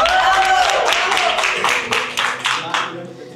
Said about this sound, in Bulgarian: Моля за вашите аплодисменти.